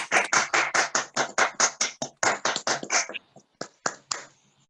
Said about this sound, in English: can I ask you all to give Peter a lovely warm welcome and a round of applause?